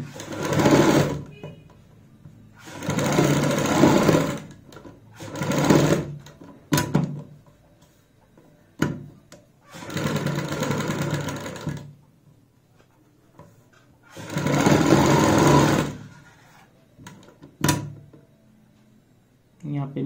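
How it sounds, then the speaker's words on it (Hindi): A sewing machine stitches piping onto a kurti neckline in short bursts of rapid mechanical whirring, separated by quiet pauses and small clicks as the fabric is turned. "यहाँ पे भी ऐसे पलटते हुए पाइपिंग के साथ साथ सिलाई लगाएंगे।"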